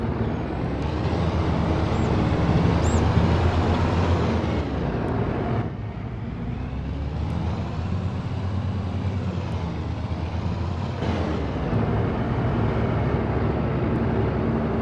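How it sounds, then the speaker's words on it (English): Two-stroke Detroit diesel engine in a modded Oliver Super 99 tractor from a farming video game, a steady loud drone running the whole time with a brief dip in the middle. "And it does have a two-stroke Detroit sound."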